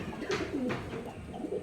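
A male pigeon of a fancy breed coos in a few soft, throaty rolling calls, close by and alone without talk.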